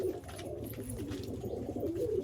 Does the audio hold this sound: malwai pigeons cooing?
yes